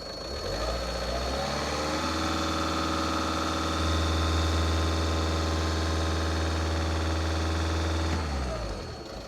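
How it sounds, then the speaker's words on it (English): A 1.6 TDI VW Caddy diesel engine idles, then is revved and held at a steady higher pitch close to the microphone before dropping back near the end. "I'm just going to rev it up, see if it goes up to 14 for me"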